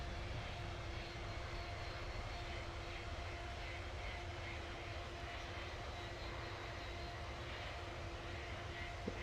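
Vulcan jet engines idling in a flight simulator, a steady, loud roar with a constant whine held throughout and no break or talk.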